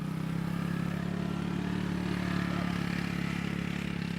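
Motorbike engine used for mustering cattle in the Australian outback, running at a steady drone with a constant low hum and slight revving throughout, fairly distant and unbroken.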